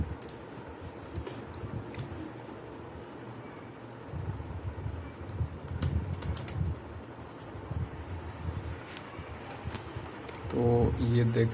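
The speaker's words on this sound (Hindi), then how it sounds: "देन कुछ टाइपिंग करके मैं आपको दिखाऊंगा यहाँ पर।" Keys clatter in irregular bursts on a Logitech K230 wireless keyboard, light plasticky clicks mixed with someone talking and faint background noise.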